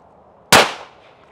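A single sharp handgun shot during grip practice on a shooting range, a loud close crack that decays quickly into a brief tail, alone with no talk.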